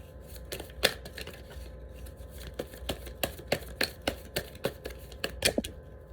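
Tarot cards for a Leo reading are shuffled nearby, making a run of crisp, evenly spaced slaps and flicks that grow more regular toward the end, with no voices.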